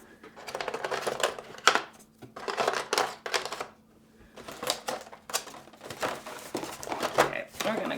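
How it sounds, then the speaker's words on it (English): Packing tape is peeled in several rough, crackling strips off the cardboard box of the Death May Die: Fear of the Unknown board game. The bursts come close and fairly loud, separated by brief pauses. "now for the hard part of getting the tape off the box"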